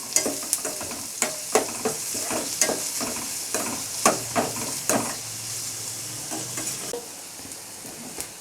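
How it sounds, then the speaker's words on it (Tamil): Onions sautéing in a pan until golden brown: a steady frying sizzle broken by regular sharp spatula scrapes and taps, close and moderately loud, with no talking. "ஆனியன் வந்து நல்லா ப்ரௌனிஷ் ஆகிற வரைக்கும் வதக்கிட்டே இருங்க."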